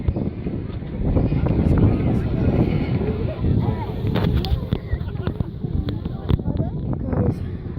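Loud bombs explode with deep booming blasts over a constant roar of wind buffeting the microphone, with several sharper cracks in the later seconds.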